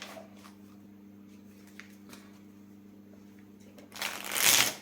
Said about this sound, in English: Oh, I need to shuffle a little more.